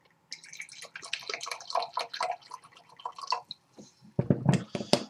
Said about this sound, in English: So, now for the pour.